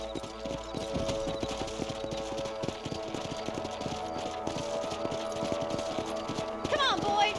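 In the Red Dead Redemption video game, a horse's hooves clip-clop at a steady, brisk rhythm over a low background tone, ending in a short snort or whinny near the close.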